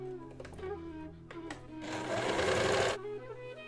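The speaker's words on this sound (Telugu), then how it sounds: "ఇక్కడ ఇంకో కుట్టు వేస్తాను" A sewing machine stitching a jacket lining runs in one loud, steady burst of about a second, preceded by a few short clicks and brief handling sounds, close up with no talking.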